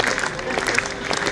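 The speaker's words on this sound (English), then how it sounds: "as you can hear now through the effects mic, I think we've got a little bit of a slow clap going" Cricket crowd at a Warwickshire v Northamptonshire one-day match keeping up a steady slow handclap, a spread-out rhythmic patter of applause heard at a distance through the ground's ambient noise.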